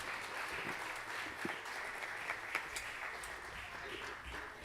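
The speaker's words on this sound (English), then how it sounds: "Let's give them a round of applause as they come down to the microphones." A crowd at a Christmas show claps for performers walking down to the microphones, a soft, continuous spread of applause with a few sharper claps popping out and some murmured voices underneath.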